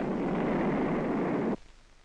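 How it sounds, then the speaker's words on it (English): Explosive charges set off electrically at the bottom of a mine shaft being sunk in 1950s Britain. A loud sustained roaring blast runs for about a second and a half, then cuts abruptly to a faint rumble. "the charges are set off electrically"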